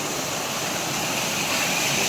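A small nameless waterfall in the mountains on the road from Ramnagar to Kainchi Dham, its steady close rush of falling water filling the air with a broad hiss that swells slightly toward the end, no voices.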